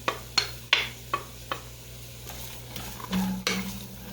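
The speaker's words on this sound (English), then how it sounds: "I'm just going to saute this for a little bit" Carrots and celery sauté in a pot under a low sizzle, with a series of sharp spoon knocks and scrapes at irregular intervals. Close and without speech.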